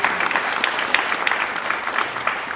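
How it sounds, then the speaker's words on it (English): Audience applause at a live monitoring conference talk, a steady wash of many hands clapping with scattered sharper claps, fairly close and continuous throughout. "Got to give a round of applause for a live demo here."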